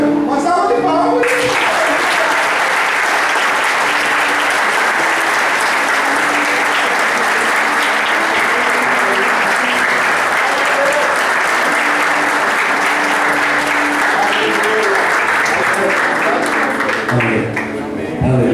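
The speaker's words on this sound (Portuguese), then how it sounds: "Uma salva de palmas." Congregation in a church breaks into loud, sustained applause for well over fifteen seconds, a dense steady wash of clapping from many hands, with cheering voices mixed in before it fades at the end.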